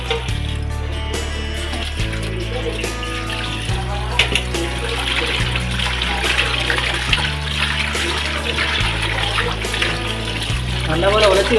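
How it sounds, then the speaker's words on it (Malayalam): Fish being cleaned under running water gives a steady splashing trickle and sloshing throughout, with a voice talking over it and music underneath. "അത് നല്ല വെള്ളത്തിൽ കഴുകിയെടുക്കുക"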